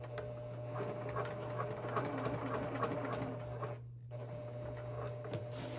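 A home sewing machine stitches fabric corners for a sparkly holiday garland, a steady close mechanical whir with rapid needle ticking that briefly pauses before resuming.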